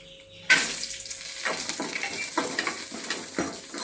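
Cashews and raisins frying in oil in a pan: a sudden sizzle that starts as they are added, then continues steadily with repeated scraping stirs, close and clear, no voices.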